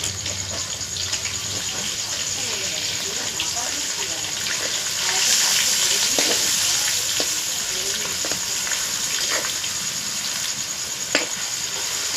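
Pieces of chicken chaap fry in hot oil with a steady, close sizzle that swells briefly midway. Occasional utensil taps and scrapes punctuate the sound.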